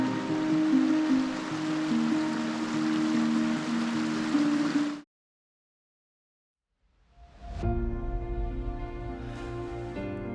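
A creek flowing past a wooded camp spot among towering rocks gives a steady, close rushing wash that cuts off abruptly, falls silent for about two seconds, then returns just as full.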